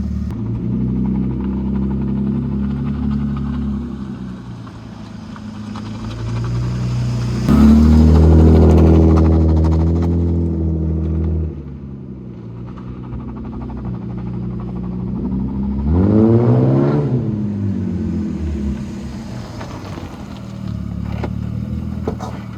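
A BMW E36 with a welded differential revs hard while its rear wheels spin, a loud, rumbling engine rising and falling through several surges with a clattering edge, heard close and alone.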